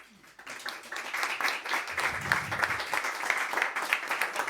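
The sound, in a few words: audience applause for Franco's speech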